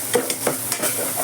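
Horse gram rasam with garlic and coriander is stirred in a pot, with light scraping taps at an uneven pace over a steady low sizzle. The sound is close, with no talking.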